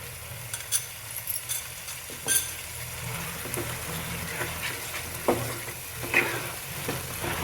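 Mushrooms and masala sautéing in a pan, a continuous low sizzle broken by occasional spoon scrapes and clinks, fairly quiet and without speech.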